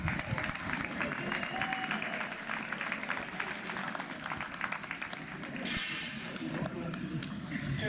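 A crowd applauds the New Jersey Green champions at the O'Grady Cup hockey tournament trophy presentation, a continuous wash of clapping that holds steady for several seconds in a large, echoing rink, with faint voices mixed in.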